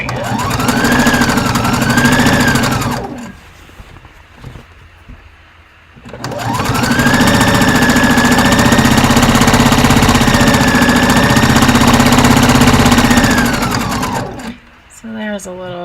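A sewing machine stitching fabric for a top runs loudly and steadily in two long bursts with a short pause between them, its fast motor hum and needle chatter close by.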